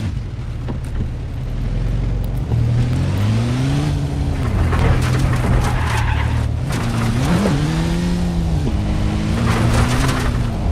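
A car engine in the military video game Arma drones steadily throughout, rising and falling in pitch as it revs, with squealing tyre-like sweeps layered over a dense, continuous rumble.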